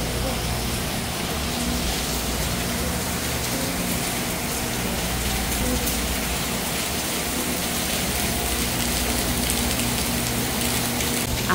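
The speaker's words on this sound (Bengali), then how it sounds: "দেখেন কি পরিমাণ বৃষ্টি হচ্ছে" Heavy rain pouring in Saudi Arabia, a loud, dense, unbroken hiss of falling water that holds steady throughout.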